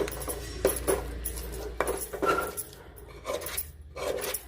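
A spoon scrapes and clinks against a bowl while stirring amla (gooseberry) pickle, a string of irregular close metallic taps and scrapes with no voice over it.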